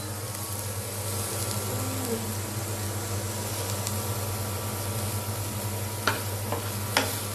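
Bottle gourd greens frying in oil in a pan in a village kitchen, a steady hissing sizzle throughout with a low hum beneath and a couple of sharp clinks near the end.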